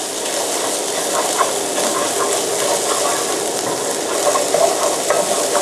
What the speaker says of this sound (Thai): ผัดให้หอมไปเลยผมลงพริกแกงให้หมดไปเลยครับ